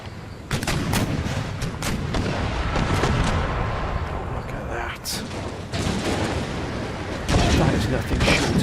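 Cannon fire from an Empire Total War battle booms repeatedly in heavy, loud volleys and scattered single blasts, with a voice speaking over the bombardment.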